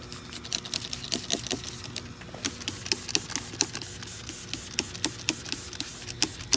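Dip dissolver product is sprayed onto a Volkswagen GTI, making many short hissing spray bursts in quick, irregular succession. The bursts are fairly quiet and come with no talking.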